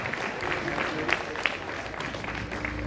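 An audience at a live Peruvian criollo music show applauds in a dense, steady wash of clapping. A few sharper claps stand out, and faint crowd voices murmur underneath.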